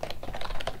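Typing on a computer keyboard, with a quick run of close key clicks at an even pace and no talk over it.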